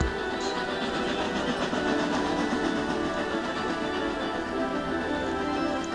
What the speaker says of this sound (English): Nilma was pulling her freight train